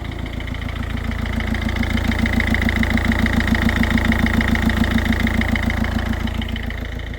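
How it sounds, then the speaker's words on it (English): Citroen Peugeot diesel engine idling steadily after an injector seal replacement, a loud, close, even rumble with a rapid regular knock that runs unbroken throughout, with no talking. "She is running, the engine light's on"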